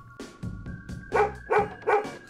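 A dog gives a run of short barks, slow at first and then three louder evenly spaced woofs close by, with no talking.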